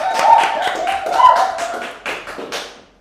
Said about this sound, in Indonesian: tepuk tangan dulu guys semuanya